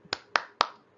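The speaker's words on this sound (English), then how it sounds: "I'm clapping, so this is a sound of clapping" A person gives three sharp, evenly spaced hand claps, close and crisp, with nothing else heard.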